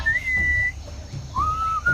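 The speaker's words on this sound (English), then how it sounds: "What is that enchanting whistling sound?" Whistled melody from the video game Sam and Max Beyond Time and Space, two clear sustained tones sliding between pitches, close and prominent over a low muffled background.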